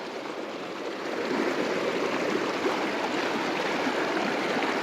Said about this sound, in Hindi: पानी का बहाव देखो, देखो देखो पानी का बहाव।